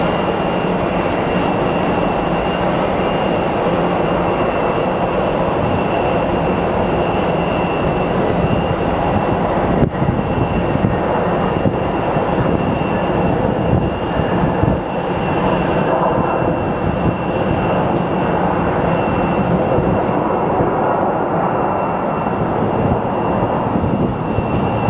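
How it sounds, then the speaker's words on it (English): A passenger airliner lands at Phoenix Sky Harbor Airport: a loud, steady broadband jet roar with tonal whine, sustained throughout without pause, close and dominant. "bet you they're going to grease this landing"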